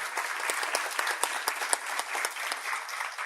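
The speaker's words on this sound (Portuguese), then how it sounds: "eu peço a todos uma salva de palmas para o Ney Ottoni de Brito" A lecture audience at a finance talk bursts into applause, a dense, steady wash of many hands clapping close by, holding evenly for about three seconds with no speech over it.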